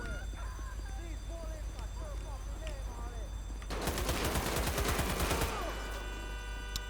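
A dense burst of rapid automatic gunfire erupts midway in GTA V's LSPDFR police mod, loud and sustained for about a second and a half, amid chirpy background game sounds.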